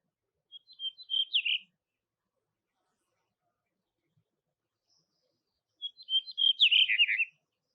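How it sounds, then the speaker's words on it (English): A rock thrush sings two short bursts of high, warbling song separated by a few seconds of silence, clear and fairly close, in the Pyrenees. "rock thrush, which is a really hauntingly beautiful, melancholic sound"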